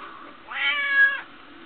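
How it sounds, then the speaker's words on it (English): A house cat gives a single clear, drawn-out meow lasting about half a second, close and loud against a quiet room. "there's just a little kitty cat"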